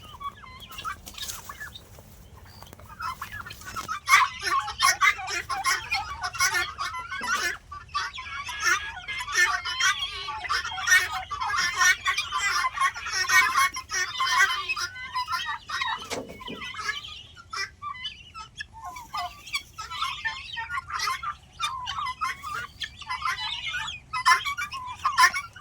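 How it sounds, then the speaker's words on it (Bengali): Turkeys and guinea fowl calling at a farm, a dense chorus of repeated clucks, chatters and gobbles rising and falling for the whole stretch, with some faint voices underneath. "টার্কি পাখি আছে, গিনি ফল আছে,"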